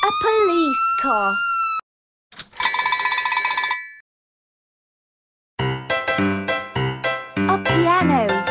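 A police car siren from a baby first-words show, heard as a short burst of bright, steady tones between silences, standing alone without talk.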